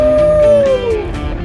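A coyote howl call used to lure coyotes sounds as one loud, close, drawn-out wavering howl that slides downward in pitch and fades.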